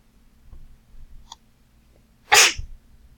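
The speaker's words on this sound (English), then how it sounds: "I just sneezed." A single sharp human sneeze, loud and close, rising out of a quiet room after a few faint clicks and taps, with no talk.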